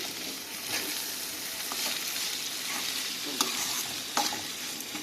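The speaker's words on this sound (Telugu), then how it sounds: "అలా వేయించుకోండి అది బాగా వేగుతుంది" Ingredients for a broad bean curry frying in a pan, a continuous soft sizzle with occasional stirring clicks and scrapes, fairly quiet and without talk.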